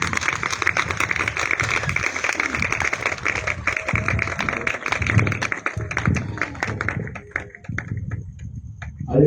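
A church congregation applauds during an evangelism service, a dense continuous patter of many hands clapping that thins out toward the end.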